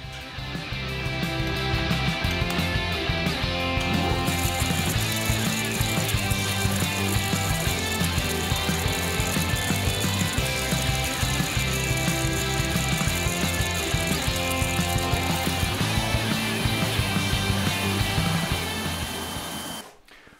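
A 7x12 mini lathe runs slowly and steadily while machining adjusting screws, giving a continuous mechanical whir and gear rattle at an even level that stops abruptly at the end.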